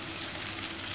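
Onions frying in hot oil for a bitter gourd curry, a steady, close, bright sizzle with a soft bubbling crackle that holds through the whole moment.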